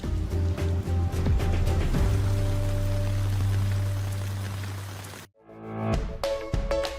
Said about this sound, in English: this downpour stopped as quickly as it started